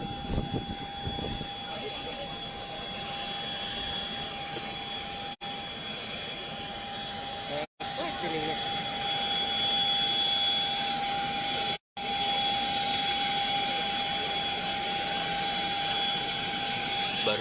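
A police aircraft's engine drones steadily with a high, constant whine at an airport apron in Jambi, loud and close throughout, as a reporter talks over it; a few brief dropouts break the sound.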